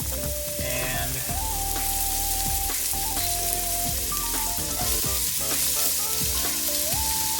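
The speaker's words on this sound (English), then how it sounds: "I hear it sizzling, so I can add the rest of my onion right now." Chopped onion sizzles in hot rendered fat at the start of a pea soup, a steady dense crackle and hiss running throughout with background music layered over it.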